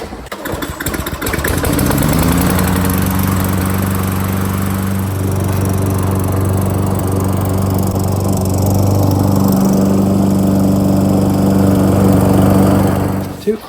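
A Lawnboy walk-behind lawn mower engine is pulled over twice, then catches and settles into a loud, steady running drone that continues to the end without talk.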